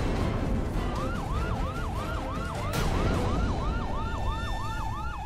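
A loud police siren wails in a steady, repeating up-and-down cycle, close by and continuous, with faint road and traffic noise underneath.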